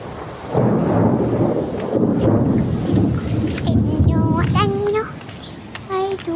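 Heavy rain falls steadily while rolling thunder rumbles loud and close through most of the stretch, with children's voices and talk rising over the storm near the end.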